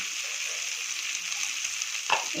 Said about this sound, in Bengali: গ্যাসের ফ্লেমটা মিডিয়াম করে সুন্দর করে ভেজে নেব